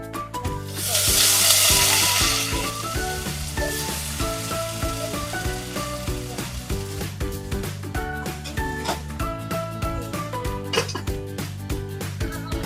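Filipino adobo cooking in a pan, a loud continuous sizzle with a burst of hissing steam early on, then steady bubbling and frying sounds that carry on alone.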